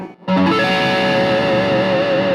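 Jason Becker's Numbers electric guitar rings out through heavy distortion, a short run of picked notes settling into a loud sustained tone, close and alone.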